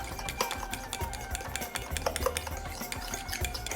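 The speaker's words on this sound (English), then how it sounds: "So I'm just going to stir this all together until it's well incorporated." A spoon stirs honey into a mascarpone and egg mixture in a bowl, giving steady close scraping and soft clinks against the sides, alone with no talk.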